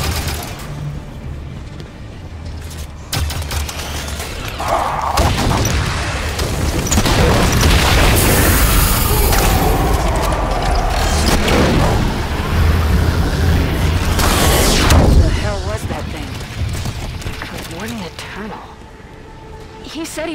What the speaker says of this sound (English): Another quake.